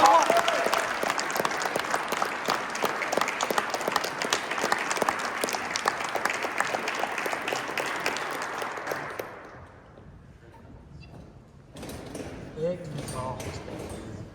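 Applause from the crowd at a cadet academy class graduation, a dense, loud clatter of clapping for about nine seconds that fades out, followed by a brief quiet and then a voice speaking.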